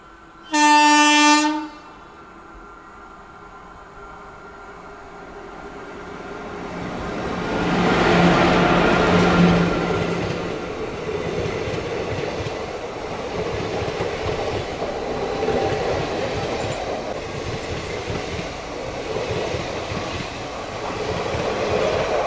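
The 17022 Vasco da Gama–Hyderabad Weekly Express sounds a short loud horn blast, then its rumble swells as it gets under way, settling into steady wheel clatter and rolling noise on the single-line section.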